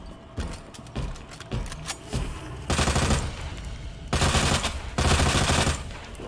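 Gunfire from Resident Evil 2 crackles in repeated bursts, starting as single sharp shots and building into louder sustained volleys near the end, with no talking.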